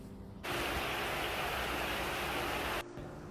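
Heavy rain pours down in a dense, steady broadband rush that starts abruptly, holds loud and even for a couple of seconds, then cuts off back to a quieter background, with no talking.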